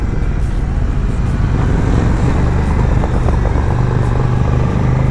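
A KTM Duke motorcycle with a quickshifter roars steadily while riding, a loud, continuous engine drone mixed with wind and road noise and no clear break between gears.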